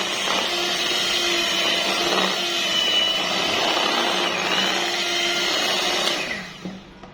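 An electric hand beater whirs steadily while mixing egg, sugar, flour and other ingredients into cake batter, a loud continuous buzzing drone that winds down and stops near the end.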